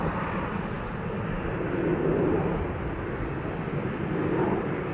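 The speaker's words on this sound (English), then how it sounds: "This is an EasyJet A319 to Newcastle" Steady broadband roar of an EasyJet Airbus A319 departing Schiphol, swelling slightly around the middle and holding at a moderate distance throughout, with no voices over it.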